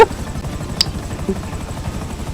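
Helicopter in GTA Online, a steady rapid rotor thump running through the whole stretch with a brief higher click partway, fairly loud and unbroken, no talking over it.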